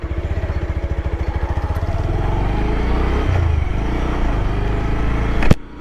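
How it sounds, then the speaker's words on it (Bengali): A Bajaj Pulsar 150 single-disc motorcycle idles with a fast, even engine and exhaust throb, then settles into a steady running drone up close before a sudden knock at the end. "বেশ ভালো লাগে ইঞ্জিন সাউন্ডটা, and exhaust sound is good as well"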